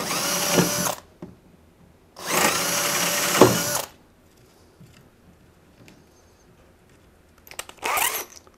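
A power drill fitted with a 3/8 bit widens holes in a PVC rail, running in three bursts: two longer whirring runs of about a second and a half each, then a short final burst, with quiet pauses in between.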